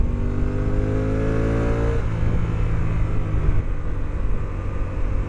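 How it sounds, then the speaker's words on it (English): A Honda NT1100 DCT motorcycle engine revs up with rising pitch, then settles into a steady loud drone after the automatic shift, heard close and continuous with no talk. "It really lets you rev it up quite a bit before it shifts."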